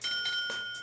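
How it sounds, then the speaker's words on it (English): A short bell from a train departure chime in the video game Persona 4 Arena Ultimax rings once, bright and sustained with a steady metallic tone, under soft background noise. "the departure bell is already ringing"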